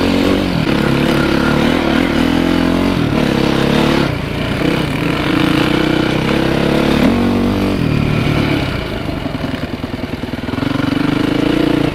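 An enduro motorcycle spins its rear wheel on slippery black mud hidden under leaves in a rooty forest. The engine revs loudly in repeated surges with a wavering pitch as it loses traction, close to the listener.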